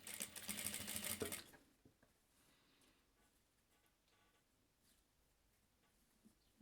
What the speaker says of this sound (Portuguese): Quando chegar na parte da cremalheira, costura devagar, para não ter perigo da agulha quebrar.